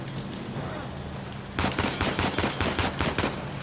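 Gunfire in the video game Uncharted 4: A Thief's End: after a quieter stretch of ambience, rapid bursts of shots crackle in quick succession and keep going to the end.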